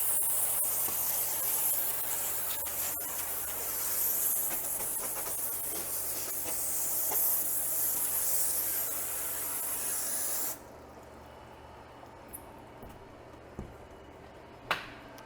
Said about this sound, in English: We have a water grate and we just spray them off.